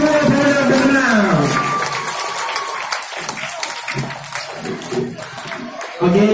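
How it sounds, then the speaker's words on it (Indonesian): Hall audience at a stop-motion prize-giving ceremony applauding the winners, a loud, dense burst of clapping that fades a little, with a voice talking over it. "berikan tepukan yang gemuruh lagi kepada semua pemenang yang terkenal"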